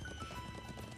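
Horse hooves clip-clopping in a steady, close rhythm in the video game Trails into Reverie, heard alone over a faint tonal background for about a second.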